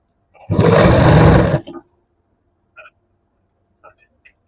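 A sewing machine stitches a blouse seam in one loud continuous burst of about a second, then stops, followed by a few faint clicks and taps of handling the fabric.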